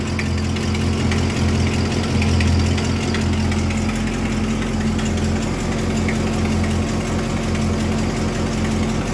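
A 1941 Buick Special Sedanet engine idling steadily with a deep, even rumble and slight knock, close and continuous, without speech.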